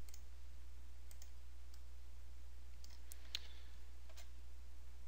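A computer mouse gives a few faint, sparse clicks over a low steady hum, with a short soft drag in between and no voices.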